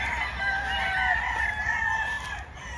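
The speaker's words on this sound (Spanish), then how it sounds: "Ya quedan algunas aves, algunos pollos, son los últimos que quedan en libertad." Chickens and a rooster on a ranch fill the air with steady overlapping crowing and clucking, close and continuous against an outdoor background hum, with no talk.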